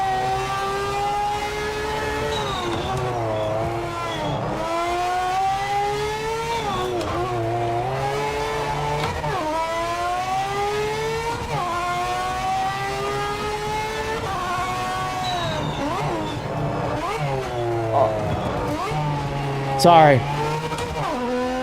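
A GT3 race car in the Project Motor Racing video game revs hard and downshifts repeatedly, its engine note sweeping up and dropping back in steady cycles, loud and close, with a brief spoken word near the end.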